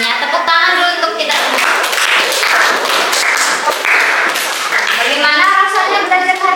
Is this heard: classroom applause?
yes